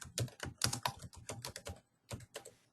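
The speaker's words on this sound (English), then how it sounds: "type in the subject area" Typing on a computer keyboard, a quiet flurry of quick clicking keystrokes in irregular bursts with a short pause before a few final taps.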